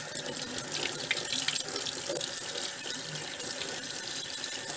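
A kitchen tap runs steadily as a squirrel liver is rinsed under it, giving continuous splashing water with small shifts in the flow, close and fairly loud.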